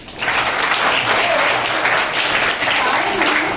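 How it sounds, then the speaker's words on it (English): Students in a school classroom clap together for a classmate, a loud, continuous wash of clapping that fills the room, with faint voices underneath. "Clap for him"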